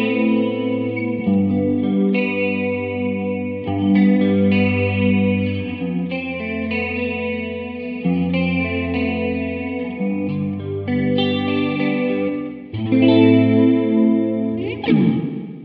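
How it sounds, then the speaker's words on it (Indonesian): Electric guitar played through a Valeton Rushead Max mini amp with reverb and chorus effects, sustained shimmering chords and melodic notes ringing continuously at steady loudness, no voices. "Sekarang kita akan coba reverb plus chorus."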